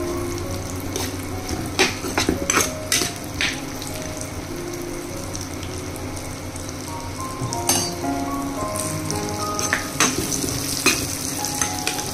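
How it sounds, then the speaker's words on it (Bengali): Cashews and raisins fry in ghee in a pan, a steady sizzle broken by repeated scraping and clinking of a stirring spoon, with occasional water-like splashes. "এখানে ঘি দিয়ে আমি কাজু আর কিশমিশটাকে ভালো করে আমি ভেজে নিচ্ছি"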